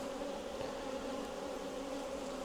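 Honey bees buzz inside a busy hive, a dense steady drone with a sustained tonal hum that holds evenly and close throughout, with no voices.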